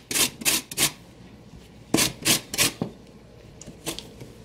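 Lemon rubbed in short rasping strokes over a homemade grater with holes punched by a nail, in a home kitchen making a lemon layer cake; three quick scrapes, a pause, then three more and a lone final stroke, close and clear.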